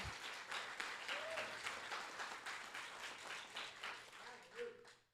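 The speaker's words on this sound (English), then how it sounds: "Y'all got to clap for that." Lecture audience clapping at a Tulsa Race Massacre lectureship, a faint, fairly even patter of many hands that swells slightly and fades at the close.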